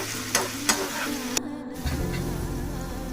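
Cut potatoes with curry leaves fry in hot oil, a close steady sizzle with a few sharp spatters and clicks early on, then a lower bubbling rumble, with no talk.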